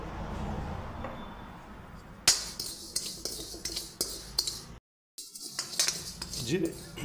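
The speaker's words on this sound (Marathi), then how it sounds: "आता याच्यामध्ये मी जिरे परतून घेतो" Cumin seeds being dry-roasted in a pan while making kitchen king masala, with clinks and scrapes of a utensil against metal cookware and a brief silent gap, no voices.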